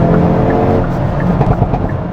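Hyundai Kona N under acceleration, a loud, continuous engine and exhaust roar with a scatter of brief crackling pops in the second half, heard from close by.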